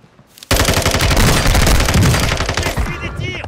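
Rapid automatic gunfire in the Call of Duty: Modern Warfare II video game, a loud, dense burst of shots that erupts suddenly and continues throughout, with game sounds trailing off at the end.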